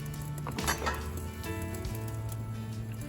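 Cabbage cooking down in a pot for a meatloaf Sunday dinner, giving a steady low sizzle and simmer with occasional clinks of a utensil against the pot, close and even throughout with no talking.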